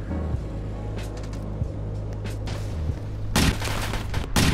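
A Kar98k rifle fires in the Roblox game Polybattle, sharp cracks spaced unevenly over a low droning background, ending in a loud burst of rapid shots close by.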